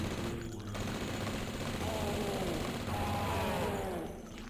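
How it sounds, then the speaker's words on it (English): A Tommy gun in the first-person shooter Blood fires in long continuous bursts that run almost unbroken through the clip, with a dense rattling clatter over game noise. "I'll keep using the Tommy gun here over and over on all sorts of enemies"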